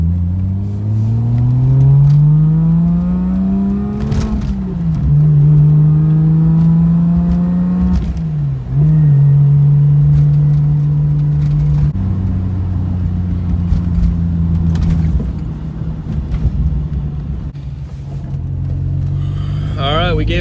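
Car driven around for a couple of minutes to warm the engine ahead of a boost test, with a steady engine drone shifting pitch as it moves through gears and a voice talking over it.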